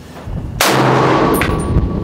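A Yugo SKS rifle fires a single loud, sharp shot outdoors at a long-range steel target 360 to 660 yards away, with a faint distant ring from the target hit following moments later.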